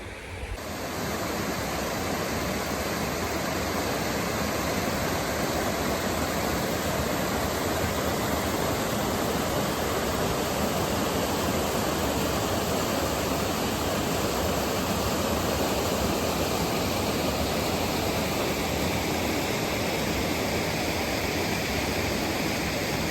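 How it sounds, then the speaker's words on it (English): Waterfall at Janet's Foss near Malham, a small fall over limestone, giving a continuous loud broadband rush of falling water that stays steady and close throughout with no voices. "Nice little waterfall."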